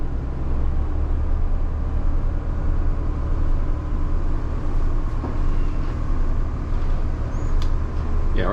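A Cummins marine engine runs with a loud, steady low drone that fills the space from start to finish, its pitch holding fairly even as revs climb in 200 RPM steps.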